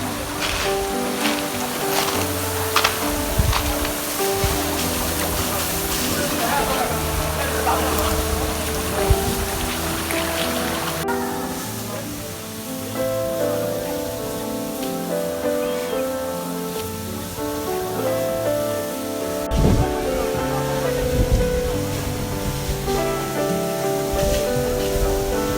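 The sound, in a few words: waterfall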